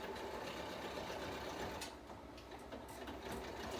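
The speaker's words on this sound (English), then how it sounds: "I'm just going to sew a straight stitch right across." A sewing machine running a straight stitch with brown thread, a steady close mechanical whir with a slight dip midway, no talking.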